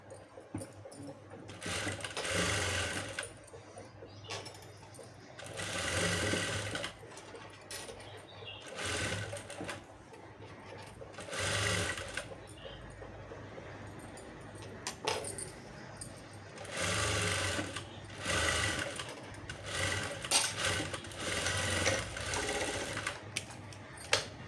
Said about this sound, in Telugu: ఈ మూలల దగ్గర కూడా కరెక్ట్గా చూసి ఇలా స్టిచ్ చేసుకోవాలి.